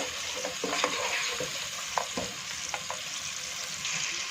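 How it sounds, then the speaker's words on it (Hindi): Beef with dried red chili powder fries in a pot, a steady sizzle broken by intermittent scrapes and clinks of a spoon stirring against the metal. "और इसमें हाफ टी स्पून मैंने सूखी मिर्च का पाउडर ऐड किया और अच्छे से हम इसकी भुनाई कर लेंगे।"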